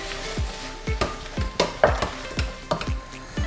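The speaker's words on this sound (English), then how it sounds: "Just give that a good stir" Baked beans in a pan being stirred, with a run of sharp scraping strokes about every half second over a soft simmering sizzle, close and fairly loud with no talking.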